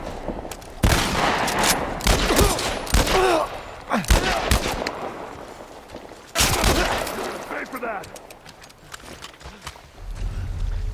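Game gunfire from The Last of Us Part 1, a single-shot gun firing amid a combat scene, with loud sharp bursts and impacts scattered through the clip, mixed with other game sounds and a voice talking at points.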